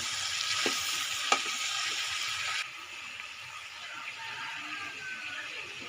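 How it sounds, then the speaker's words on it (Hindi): Cauliflower and potatoes being stirred together in a cooking pot, with steady frying sizzle throughout and a couple of sharp spoon knocks early; the sizzle drops quieter partway through as the mixing continues. "गोभी को आलू के साथ अच्छी तरह मिक्स कर लेंगे।"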